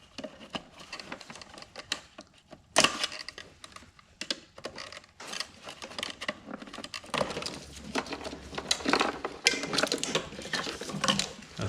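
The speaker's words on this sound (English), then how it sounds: "Push all the relays up and slide them back through" Relays pushed up and slid out of a BMW E46 relay carrier with a flathead screwdriver make close, irregular plastic clicks and clattering taps, with a few sharper snaps.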